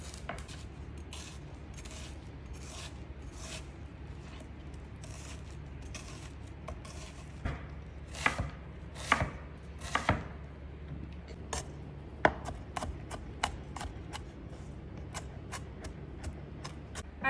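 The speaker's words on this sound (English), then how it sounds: "So you want to start with chopping your onion." A knife chops an onion on a cutting board in quick, irregular taps, close and fairly quiet, with sharper cuts toward the end; no speech.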